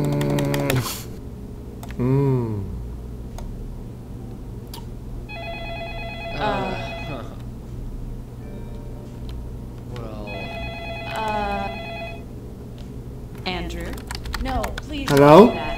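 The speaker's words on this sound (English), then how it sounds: "No, I hear ringing." A telephone rings inside the video game Façade in two separate bursts of repeated electronic tones, under and between people talking nearby.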